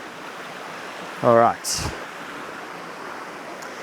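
Fast-flowing water at Watui Falls rushes in a steady, loud, broadband roar throughout, with a voice briefly speaking over it near the middle.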